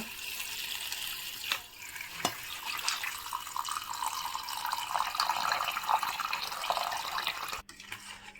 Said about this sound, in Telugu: ఇందులో మనము నీళ్ళు పోసుకొని నానబెట్టుకుందాం కాసేపు